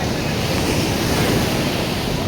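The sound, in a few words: ocean waves breaking on the beach at Puri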